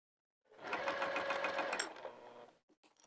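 A sewing machine runs steadily for about two seconds while stitching a heart-shaped fabric potholder, with a fast, even mechanical whir, then slows and stops, followed by a few faint clicks.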